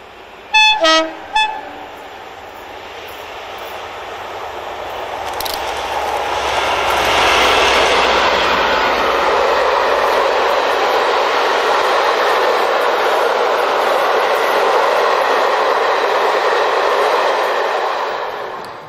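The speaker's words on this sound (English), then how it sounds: "D1015 emerges from Bleemore Tunnel as she heads the Western Heights rail tour to Carlisle on the 3rd of September 2005" A Western class diesel-hydraulic locomotive, D1015, heads a rail tour out of Bleemore Tunnel on the Settle–Carlisle line; a brief horn toot opens, then the engine's roar swells and holds loud and steady as the train passes close by.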